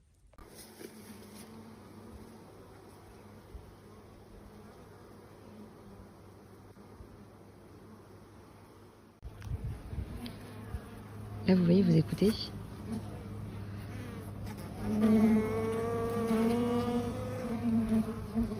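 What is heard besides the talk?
honeybees buzzing in an open hive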